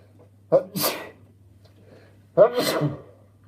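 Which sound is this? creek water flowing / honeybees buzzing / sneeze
sneeze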